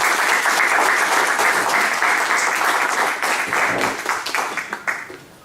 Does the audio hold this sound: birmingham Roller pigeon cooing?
no